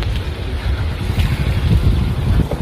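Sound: wind blowing outdoors

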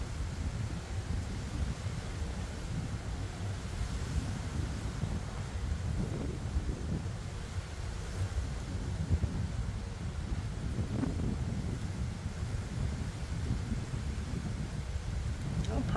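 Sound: wind blowing, about 15 mph

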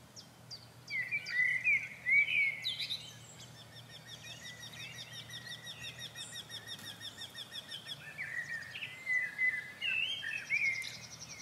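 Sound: Eurasian wryneck song

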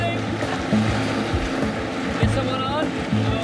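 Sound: unmanned boat running at full throttle on water

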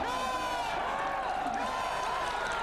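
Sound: crowd cheering at strongman tire flip event

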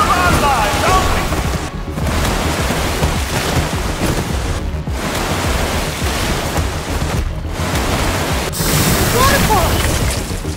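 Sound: waterfall in Minecraft: Story Mode video game

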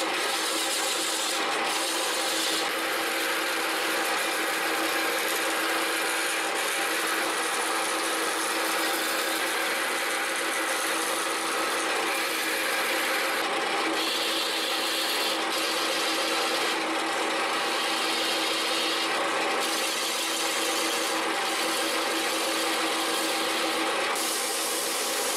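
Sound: sanding a wooden bowl on a lathe

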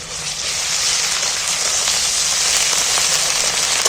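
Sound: ginger garlic paste frying in hot oil

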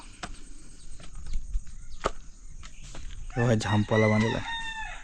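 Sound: rooster crowing in a village

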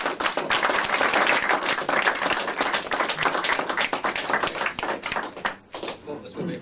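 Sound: audience applause for Harold Snow

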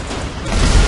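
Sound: explosion of a truck in a video game

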